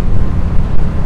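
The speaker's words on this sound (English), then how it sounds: "especially when it's quite a windy day like it is today." Steady buffeting wind noise on a lav microphone while riding a Royal Enfield Classic 350 motorcycle on a windy day, a dense continuous low rumble filling the whole short stretch.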